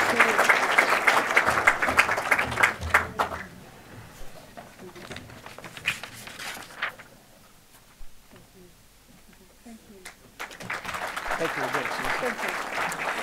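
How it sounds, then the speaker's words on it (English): Audience applause at an archbishop's fundraising dinner: loud sustained clapping that fades into a quieter stretch with scattered claps and murmur, then swells again into full applause. "please keep the applause going"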